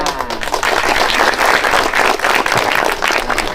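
A crowd at a gathering with an Indonesian army regiment breaks into clapping, a loud, close, dense patter that runs on without a break.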